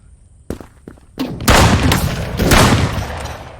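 Shotgun fire in the browser shooter Krunker: a few sharp shots, then a louder close burst of blasts and impacts.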